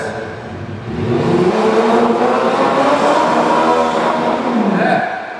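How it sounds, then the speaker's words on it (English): A small remote control car's electric motor whirs and revs steadily at a theme park stunt show, rising to a sustained high buzz before easing off, loud and fairly near with faint background voices. "this button right here in the middle controls the throttle, just like this"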